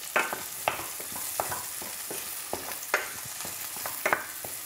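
A large pile of garlic frying gently in a pan, a soft steady sizzle broken by repeated clicking scrapes of stirring, close and fairly quiet, with no talking.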